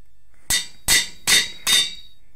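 Metal plates being hammered in Minecraft with the GregTech 6 mod: four loud, sharp clanging strikes evenly spaced about a third of a second apart, close up with no talking.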